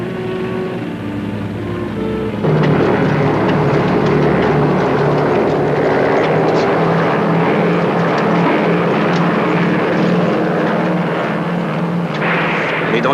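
An airplane engine drones steadily throughout, rising to a louder, fuller roar after a couple of seconds and holding there as the aircraft flies on.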